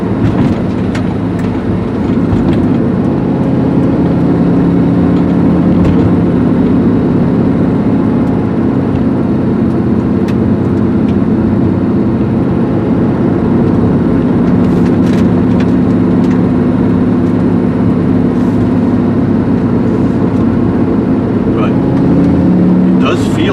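A Porsche 944 fitted with a carbureted LS V8 is driven, giving a steady, loud, low engine drone that holds for over twenty seconds with little change.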